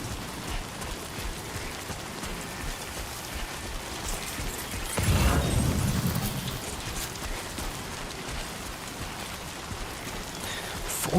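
Steady rain in the video game Death Stranding 2 patters and hisses throughout, with a brief heavier rumbling surge partway through.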